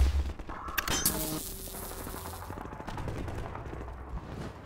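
Gunfire in the video game Half-Life 2, dense bursts of shots and booming blasts layered over busy game noise, loud and continuous throughout.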